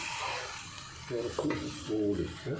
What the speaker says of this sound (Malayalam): ശേഷം 1 കിലോ ചിക്കനാണ് ഇതിലോട്ട് ഇട്ടത്. നല്ലോണം ഇളക്കണം.